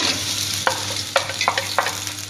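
Onions hit hot oil in a cooking pot, giving a steady close sizzle with several sharp stirring scrapes and clinks over the frying.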